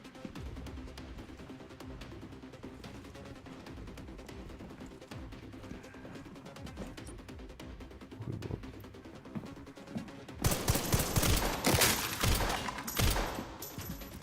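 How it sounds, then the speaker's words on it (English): Gunfire in the Resident Evil Requiem video game, first a low background rattle and then a loud burst of rapid shots near the end, mixed with game sounds. "Why is the gun so slow?"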